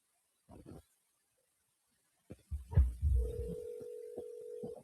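A phone call placed on speakerphone: a couple of soft handling thumps, then a steady, fairly loud ringing tone repeats in evenly spaced pulses with no talk.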